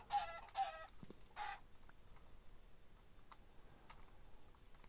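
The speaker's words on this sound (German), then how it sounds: "Da hat ein Küken." A chick clucking in the video game Minecraft, three quick bright clucks close together at the start, then faint ticking and clicks over a quiet background.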